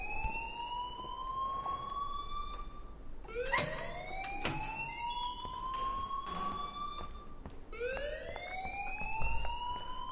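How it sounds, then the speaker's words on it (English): An alarm in the video game Life is Strange wails in repeated rising electronic sweeps, moderately faint and continuous with no talk. "please turn off that alarm since that's your job"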